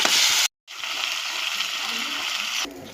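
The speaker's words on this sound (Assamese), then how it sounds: "আপোনাৰ উতলি আছে মাংস।" Meat simmering in a covered pot with potatoes and squash gives a steady, close bubbling and hissing wash, cut by a brief silence, then continuing evenly before fading.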